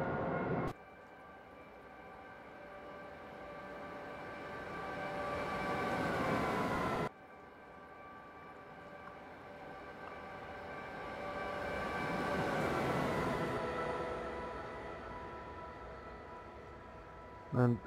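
A passenger train running in Train Simulator 2014, heard from the cab: a steady engine drone and rolling rail noise that swells and fades in two long waves, broken by an abrupt cut partway through.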